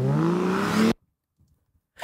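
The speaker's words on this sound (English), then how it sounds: "And then I add this little car." A car accelerating away is used as a sound effect in a music track. It makes a near, loud engine rise whose pitch climbs for about a second and then cuts off abruptly into silence.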